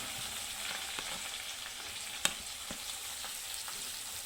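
Finely chopped onion fries in hot tempering oil for usal bhaji, giving a soft, steady sizzle with light crackles and a sharp clink partway through, fairly quiet and with no voices.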